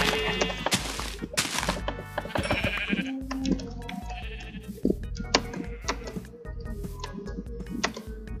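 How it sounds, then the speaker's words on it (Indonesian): Sheep bleat repeatedly in Minecraft on a sunflower plains farm, several calls spread across the clip alongside blocky thunks and game effects, fairly close and clear with no talking. "dan ini ada banyak sheepnya"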